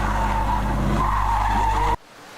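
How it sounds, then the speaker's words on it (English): A car skids with a sustained, wavering tire squeal over a low engine drone, loud and close, then cuts off abruptly to near quiet. "If the car moves with a velocity greater than the limiting value, it skids away from the center."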